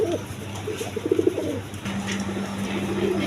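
Pigeons at a market coo in low throaty bursts, one rolling call followed by a steady hum of another bird, set against faint background bustle.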